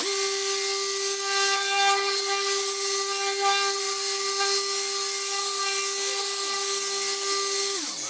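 Car polishing machine at high speed on a Honda Prelude's paint, a steady loud whine with strong harmonics held for several seconds before spinning down abruptly at the end.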